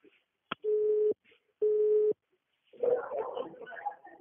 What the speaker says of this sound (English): The person you are speaking with has put your call on hold.